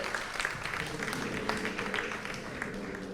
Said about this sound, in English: Let's give a big round of applause, everyone